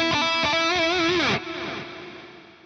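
Guitar notes run through a delay effect with diffusion, a bright sustained phrase that cuts off and leaves a smeared, reverb-like tail fading out alone over a couple of seconds.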